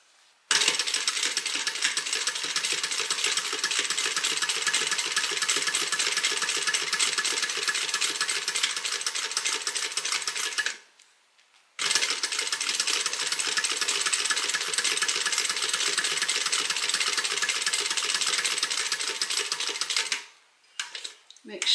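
A sewing machine top-stitches a beverage bag in two long, steady runs of fast mechanical whirring, broken by a short pause near the middle and stopping near the end, with no talk.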